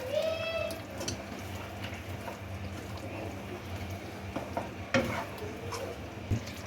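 Beef korma with masala is stirred in a pot, with a spoon scraping and clinking against the metal over a soft sizzle, close and fairly quiet throughout.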